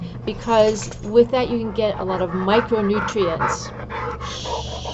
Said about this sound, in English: I have a dog next to me who's